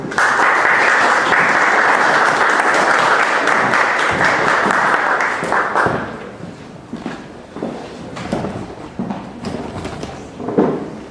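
An audience at a doctoral literature colloquium gives strong, dense applause for the speaker Julián Pérez, steady for about six seconds before thinning into scattered claps and room noise.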